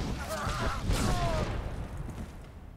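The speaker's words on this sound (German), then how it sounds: "Boah, was hat er denn für einen Schuss?" Blaster gunfire in the Star Wars The Old Republic video game during a space station mission, a few booming shots over steady game noise, with someone talking over them.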